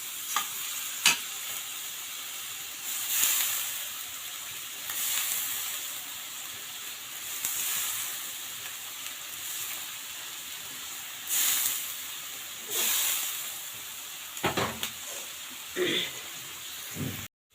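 Chicken gizzard, liver and skin sauté in a pan with a steady, close sizzling hiss, broken by repeated scraping bursts as the pieces are stirred and turned.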